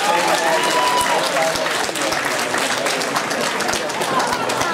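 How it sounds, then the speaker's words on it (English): A crowd applauds a female contestant at the NABBA Mr & Miss United Kingdom 2013 bodybuilding results, dense steady clapping filling the room throughout with faint crowd noise underneath. "This lady, give her a good round of applause."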